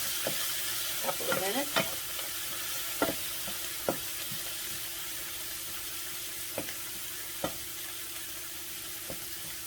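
Chicken sizzles in a pan after red wine is poured in, a constant loud hiss broken by sharp clinks of a utensil stirring against the pan, with a brief spoken phrase over it.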